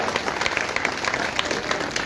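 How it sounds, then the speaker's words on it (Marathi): A crowd at a religious gathering in Omkareshwar honouring a swami claps continuously, a dense, even patter of many hands that holds steady throughout. "जरा वर हात करून टाळी वाजवा त्यांच्याकरता"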